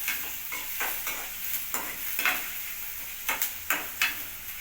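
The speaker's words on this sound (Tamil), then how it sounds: "ஓகே, நல்லா வதக்கிக்கலாம்." Garlic and other ingredients are sautéed in a pan for a vegetarian mutton-style fry, with a steady sizzle broken by repeated scraping stirs of a spatula, close up and without voices.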